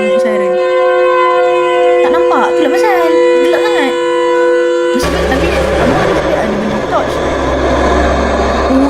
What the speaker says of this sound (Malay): Dengar siren.